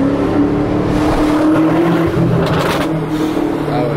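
A BMW M8 tuned to 850 hp roars on a mountain road, a loud, sustained engine drone echoing off the surroundings, with a voice faintly under it.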